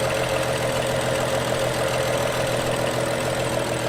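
A 2012 BMW 335i M-Sport engine idles with no belt fitted and a broken pulley, a steady, continuous close-up rumble with an even rhythm throughout.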